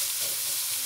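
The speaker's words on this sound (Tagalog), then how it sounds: "Habang hinahantay natin masangkot sa ang sibuyas at saka bawang" Chopped onion and garlic sauté in a hot pan, giving a continuous bright, hissing sizzle at close range with no talk.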